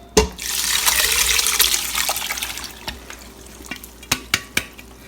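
Homemade apple cider vinegar is poured through a sieve, a close, continuous liquid splashing that tapers off into a few separate clinks and drips near the end.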